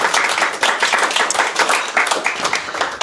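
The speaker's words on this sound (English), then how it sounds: "please can we have a round of applause for our A&D team" Audience applause for a college fundraising team at a Queens' College, Cambridge event, a dense, steady round of clapping from many hands, fairly close and loud throughout with no talk over it.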